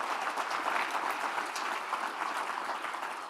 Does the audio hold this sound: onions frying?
no